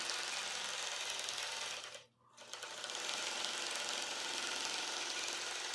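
A longarm quilting machine stitches a client's quilt, giving a steady, fast mechanical whirring and rattling that runs throughout, dipping briefly to near quiet for a moment before resuming at full level.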